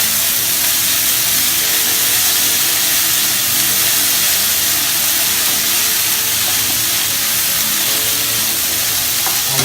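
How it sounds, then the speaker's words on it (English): A sausage tandoori stir fry sizzles loudly and continuously in a hot pan, a dense, steady hiss of frying with occasional small crackles and no talking. "Look at that sizzle going"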